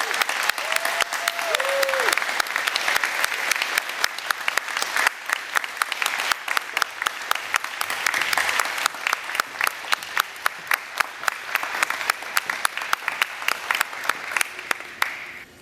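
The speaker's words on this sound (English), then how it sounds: "Let us now recognize and applaud the new members of the National Honor Society of Cape May County Technical High School." An audience at a Cape May County Technical High School National Honor Society induction claps steadily for the new members, sustained applause at moderate loudness with separate claps audible, and a brief voice near the start.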